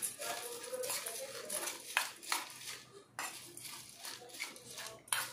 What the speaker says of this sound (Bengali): ওরা চামচ একটু নেড়ে দেখো।